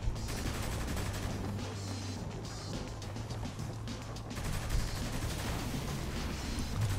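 Gunfire in the video game Saints Row The Third comes as dense, continuous volleys that hold at a fairly even level for the whole stretch, with no pauses between bursts.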